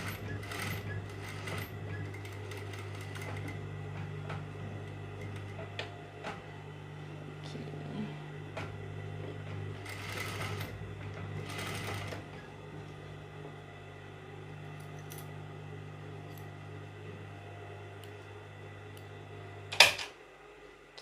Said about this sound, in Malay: Lepas tu saya jahit je.